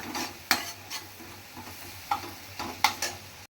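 Chili powder sizzles quietly in oil in a pan as a spoon stirs and scrapes against it several times, close by.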